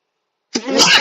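A single sneeze bursts out after a stretch of silence, loud and close, with a sharp onset that trails into a breathy, noisy release.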